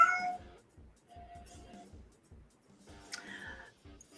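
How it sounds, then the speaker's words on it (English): A small young cat meows several times in short, soft calls spread across the stretch, fairly close but quiet, with a brighter, louder cry near the end. "He's a very small cat still."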